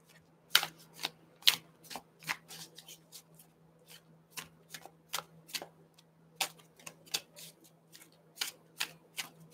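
Tarot cards being shuffled, a quick series of sharp riffling snaps and flicks in irregular bursts, close and clear over a faint steady hum, with no talking.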